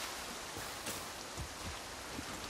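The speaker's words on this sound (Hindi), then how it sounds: "बहुत ही तेज बारिश हो चुकी है" Heavy rain pours in the Far Cry 6 video game world, a dense steady hiss with scattered splashy drops and no voices.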